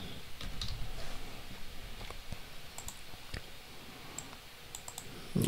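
Keys tapped on a computer keyboard while entering a start script for a Node.js Express app, a string of light, close clicks in uneven bursts over a low background hum.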